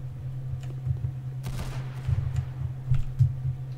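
Gunfire aimed at windows inside a Roblox Murder-style game, a few sharp shots over a steady low game hum, with a denser burst of noise midway and several louder hits toward the end.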